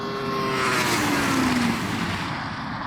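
A Ferrari SF90 roars past during a drag race, a loud, sustained engine howl with a falling pitch as it pulls away from close by, steady and unbroken for a few seconds.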